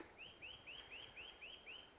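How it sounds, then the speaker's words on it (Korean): Repeated bird calls ring out in spring on Cheonggyesan mountain, seven short rising chirps in a steady rhythm over faint background hiss, fairly distant and clear. "새소리가 들려오는데"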